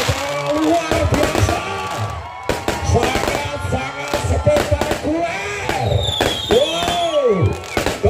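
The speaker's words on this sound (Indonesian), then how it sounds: "dentuman ribuan petasan, ribuan kembang api" Thousands of firecrackers and fireworks burst at a crowded celebration, a dense, loud barrage of sharp cracks and booms with whistling rockets, while a crowd murmurs and cheers underneath.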